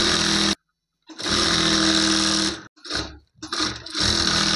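A sewing machine stitches the panels of an umbrella frock in loud, close runs. A long burst of stitching is followed by short stop-start bursts, with brief silent pauses between them.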